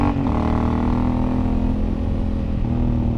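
A Honda Africa Twin motorcycle engine runs steady and loud close by, holding a smooth, even throttle with a faint pitch shift near the start and again toward the end, no voices.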